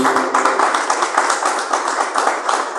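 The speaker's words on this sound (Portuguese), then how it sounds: "Palmas para Jesus." A church congregation applauds together, a dense, continuous burst of many hands clapping in a reverberant hall, rising and falling slightly in rhythmic waves across the whole stretch.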